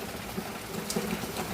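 Rain falls outside in Bhubaneswar, a steady broadband hiss of drops with faint scattered taps, even and unbroken throughout.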